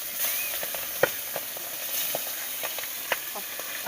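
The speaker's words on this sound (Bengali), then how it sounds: "সরষের তেল দিলাম যে কড়াইতে মাছ দিলে যে ছিটকে পড়ে" Magur fish sizzles steadily in hot mustard oil in a wok, a constant frying hiss broken by sharp crackles and pops, close up and with no talking.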